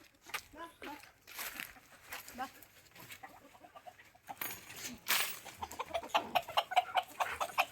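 Chickens cluck and squawk in short, irregular bursts nearby, with scattered rustling and a few other sounds mixed in.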